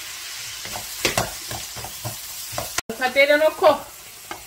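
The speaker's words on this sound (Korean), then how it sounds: "쭈꾸미 넣고 볶아줬어요." Webfoot octopus stir-frying in scallion oil, a burst of sizzling and sputtering with scraping stir strokes, close up, following a brief spoken phrase.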